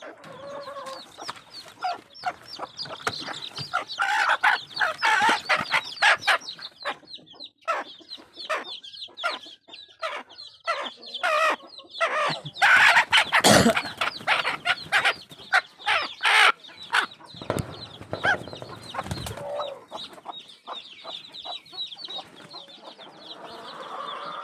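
Hens on a farm with about forty laying birds cluck steadily while a rooster crows loudly, the calls overlapping in busy rhythmic bursts from close by with no talk.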